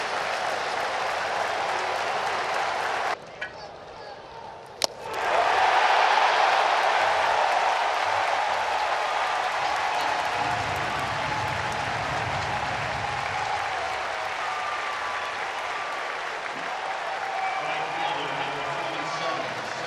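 A big-league ballpark crowd roars and applauds through a rookie pitcher's two-strike count, a loud, sustained swell of cheering that briefly dips and then surges back even louder, staying at full volume throughout.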